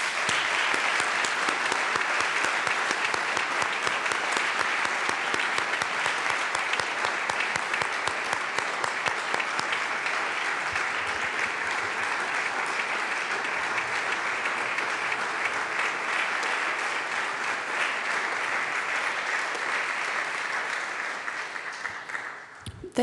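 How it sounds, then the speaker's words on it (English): Sustained applause fills a legislative chamber in the Colorado House. A large crowd claps loudly and evenly for about twenty seconds and then begins to taper off at the end. "please give them a round of applause"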